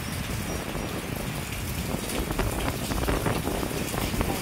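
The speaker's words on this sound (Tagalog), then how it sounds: "Lakas ng hangin, oh." Continuous strong monsoon wind roaring and buffeting the microphone, mixed with a wash of rain-like hiss, loud and unbroken throughout.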